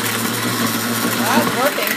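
A vintage Osterizer blender motor runs with a steady, strained hum and rattle. It sounds rough and harsh, and a voice is faintly heard over it.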